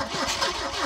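A car, either a VAZ 2101 or a Peugeot, cranks and fires up on an AnyPRO jump starter with no battery fitted, a brief, close engine catch.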